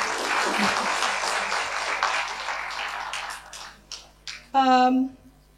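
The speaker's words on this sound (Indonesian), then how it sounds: "Tepuk tangan lagi buat Pak Roman." Audience applause for a guest economist at a university economics seminar swells and then thins over a few seconds, trailing into scattered claps before a voice begins speaking.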